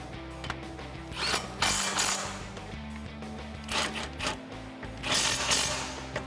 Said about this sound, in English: now we got our 15 socket, we can tighten these guys down